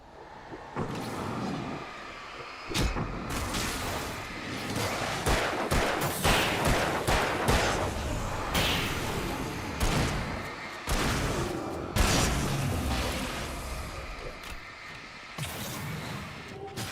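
Rapid revolver gunfire from the Shadow Men video game, with repeated sharp shots and bursts of combat noise filling the scene loudly and continuously over several seconds.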